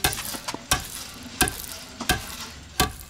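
Coffee beans roast in a pan and are stirred, so dry, crackly scraping strokes repeat about every half second over a faint sizzle. There is no talk.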